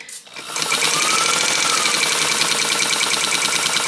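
A 1923 Singer 99K sewing machine stitches steadily at speed with a dense, even mechanical chatter that starts abruptly after a brief pause and holds loud and close throughout.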